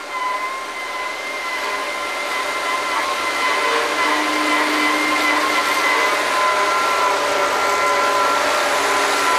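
A drilling rig's mud pump runs steadily on a working well site, giving a loud, continuous broadband roar with faint steady whining tones, unbroken for several seconds with no voices.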